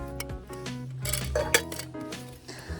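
Metal nesting camping pots clank and scrape against each other as they are handled and fitted together, a close series of ringing clinks and knocks with no talking.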